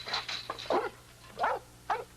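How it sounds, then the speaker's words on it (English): An American Pit Bull Terrier gives several short, sharp barks with brief pauses between them, at a moderate distance. "Who's that over there barking at you?"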